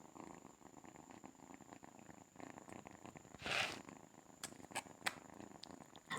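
A pet cat purrs softly and steadily up close for several seconds, a low continuous rumble joined by a brief louder rustle midway and a few faint clicks near the end.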